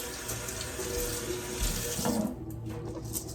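Tap water runs steadily into a kitchen sink while rice is washed, a continuous close splashing stream that eases off near the end, with no talking.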